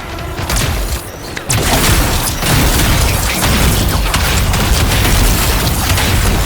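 Crystals exploding in the video game Anthem, a dense, loud barrage of booming bursts and crackling blasts that runs almost without a break, with a short dip before the rumbling fire resumes.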